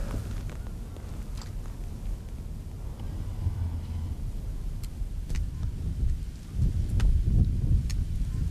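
Strong winter wind buffets the microphone at a cold fishing spot in South Jeolla, a continuous low rumbling roar that swells louder in heavy gusts near the end.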